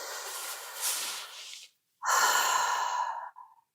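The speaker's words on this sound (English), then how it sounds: "take in a deep breath" A person inhales deeply and audibly through the nose in a long breathy draw, then, after a short pause, lets out a fuller, louder exhale like a sigh, close and alone.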